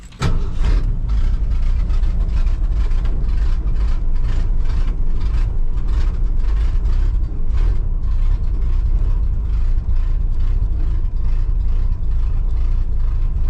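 A 1966 Ford pickup truck's engine turns over and settles into a loud, rough, low rumbling run, with a chugging rhythm throughout and no voices.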